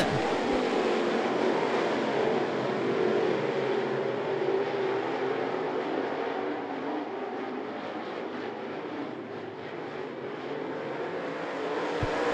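Steel head late model race cars at I-75 Raceway roar together in a loud, steady pack, engine drone holding for the whole stretch, as from a grandstand at the track.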